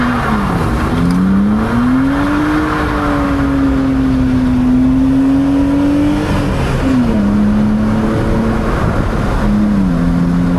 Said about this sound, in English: It's a lot more wheel spin than I expected.